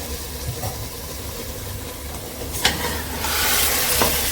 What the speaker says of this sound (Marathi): आता आपण चिकन टाकतो.